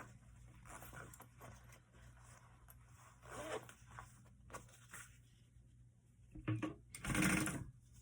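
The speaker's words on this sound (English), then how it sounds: "Move my zipper out of the way." A zipper on a handmade clutch is handled, with faint scattered rustles followed by one or two short, louder zip-like rasps near the end, close by.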